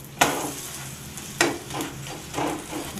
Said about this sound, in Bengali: দেখুন সাদা তেলে আমি ভেজে নিচ্ছি।